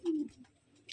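A pigeon gives a soft, brief coo near the start, then fades into quiet with a faint rustle at the end, heard alone at low volume.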